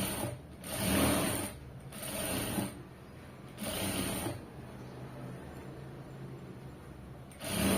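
A sewing machine stitches a side seam on a garment in several bursts of whirring, mechanical running, each lasting about a second, with quieter gaps between.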